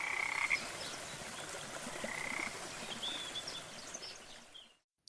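Tree frogs croak at a fountain in a dense, continuous chorus that carries along with a few higher chirps and cuts off abruptly just before the end.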